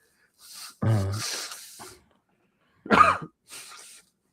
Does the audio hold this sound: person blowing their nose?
yes